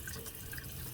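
Water is being poured back into a rock tumbler barrel over rocks and ceramic media, a brief steady splashing pour heard close and on its own.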